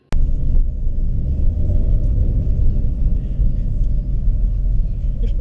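A Chevy Spark rental car on a test drive, its engine giving a steady, loud low rumble that holds without a break from the start of the clip to the end, with no voices heard.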